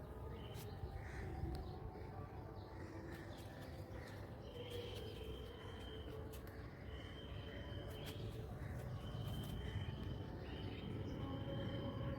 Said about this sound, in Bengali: চতুর্দিক দিয়ে কাক পাখির আর গানের আওয়াজ শোনা যাচ্ছে